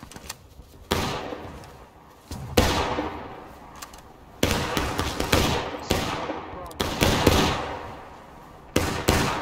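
Musket volleys in the War of Rights battle game, several sharp loud cracks fired at irregular intervals, each trailing into a rolling echo, with voices shouting between shots.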